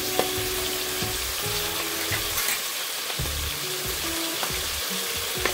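Onions frying in a pan on a stove for a potato and boal fish curry give a steady close sizzle with faint stirring scrapes and brief watery clinks throughout.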